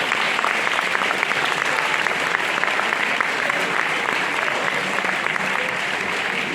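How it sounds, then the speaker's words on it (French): Sustained audience applause for volunteers at a sports and Olympic evening event in Chelles, France, a loud, even roar of many hands clapping that holds steady throughout. "Alors, on peut les applaudir très fort"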